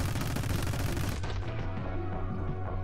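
Rapid bursts of video game gunfire from My Friend Pedro 2 crackle loudly in a dense volley, then cut off abruptly into a brief ringing tail.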